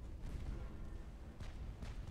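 Heavy 9-inch naval guns fire in a battle in Ultimate Admirals: Dreadnoughts, a steady low rumble with a couple of sharper booms rising out of it, distant and quite faint.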